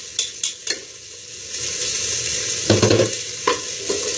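Onions fry in a pan with a continuous sizzle, and a utensil scrapes and knocks against the pan in short, sharp stirring strokes.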